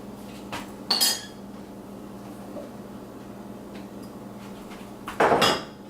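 Ice cream scooped into a bowl, two short bursts of metal spoon scraping and clinking against the dish, separated by a quiet pause over a low steady room hum.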